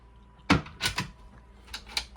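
Storage compartment lid or locker door aboard a Dufour 530 sailing yacht, shutting with a sharp near thump followed by a couple of lighter knocks and clicks in a quiet cabin.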